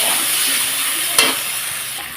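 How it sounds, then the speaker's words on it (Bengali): Spice paste with turmeric is stir-fried in a pan for a banana flower dish, a loud steady hiss with a single sharp scrape midway, close and without talk. "এখন ভালোভাবে কষিয়ে নেব মশলাটাকে"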